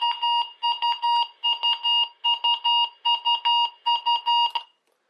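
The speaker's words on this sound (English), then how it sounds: "so those beeps, believe it or not, you can actually hear those on the 2003 version of the 261 whenever a weekly test comes in" Electronic alert beeps from a 2004 Midland 261 weather radio menu, a bright tone repeating in quick groups of two and three, close and clean, stopping after about four seconds with no talk.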